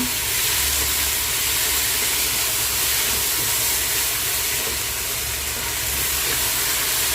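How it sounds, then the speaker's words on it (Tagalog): Garlic and mustard greens sautéing in a little oil over a strong flame give a continuous loud hiss and sizzle that holds steady throughout. "Ayan po siya at iluluto na po natin, igigisa na po natin."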